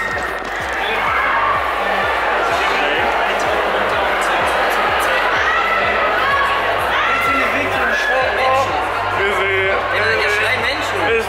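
Dense crowd noise fills a busy convention hall at VideoDays 2014: steady babble of many spectators with children shouting and scattered cheers, continuous and loud, with people talking close by.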